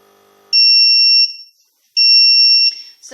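Tommee Tippee Perfect Prep machine signalling a bottle ready: two loud, steady electronic beeps of about a second each with a short gap between, close and clear against near silence.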